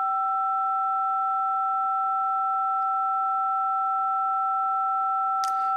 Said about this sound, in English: I'll just do a DTMF tone